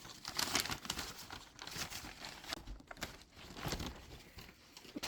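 A vintage book wrapped as a gift is unwrapped, with quiet, close crinkling and crumpling of wrapping paper and a few tearing rustles over about five seconds.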